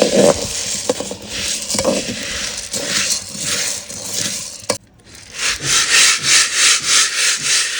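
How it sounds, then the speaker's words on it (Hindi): Chickpeas are roasted and stirred in a kadhai, giving close, rhythmic scraping and rustling sweeps that repeat steadily, with a brief gap before faster, louder strokes resume. "चनों को भून रहे हैं जी अम्मी जी कढ़ाई में।"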